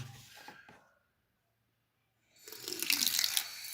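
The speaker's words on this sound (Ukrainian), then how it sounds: "змочуємо тюляний коврик, але не дуже, щоб був мокрий" Water splashes onto a mat for growing microgreens in two bursts, a short close trickle at the start and then a louder, hissing pour after a pause of silence.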